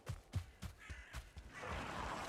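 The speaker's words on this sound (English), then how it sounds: "Alright, we hear crows." Crows cawing in the survival video game Valheim, a series of short harsh calls spaced irregularly over the first second and a half, followed by a steady windy wash of ambient game noise.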